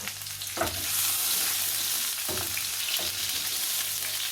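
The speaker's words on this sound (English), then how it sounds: "So once it's hot, we're going to start by adding the garlic." Garlic frying in hot oil for Spanish paella, a loud continuous sizzle with a few quick stirring scrapes, close up and without talk.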